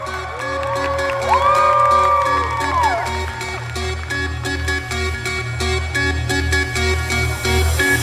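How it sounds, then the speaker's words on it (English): Wedding reception crowd cheering and whooping for the couple, loud and continuous, with steady music playing underneath and a few raised voices rising over the noise. "One more round of applause for our stunning couple out there."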